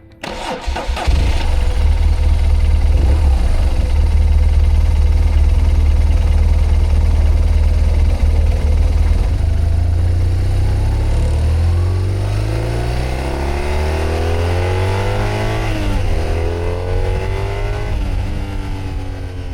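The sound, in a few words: 2012 BMW R1200 GS Rallye motorcycle engine riding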